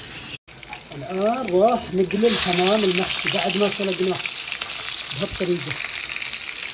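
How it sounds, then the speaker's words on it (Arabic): Stuffed pigeon, boiled first, frying in a pan with steady loud sizzling throughout, while a voice talks over it in bursts. "الان راح نقلي الحمام المحشي بعد ما سلقناه"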